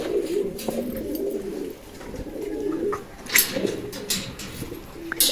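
Several pigeons coo nearby in low, throaty bursts that overlap, with rustling and a few higher chirps mixed in.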